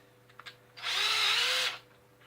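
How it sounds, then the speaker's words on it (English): A power drill spinning for about a second to clear primer pocket crimps from .308 Winchester rifle cases, one short close whine that rises sharply, holds, and cuts off, with faint clicks before it. "you can actually do this with your drill, and it takes about 2 seconds, and it will remove any crimps as well"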